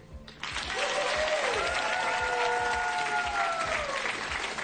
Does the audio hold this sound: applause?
yes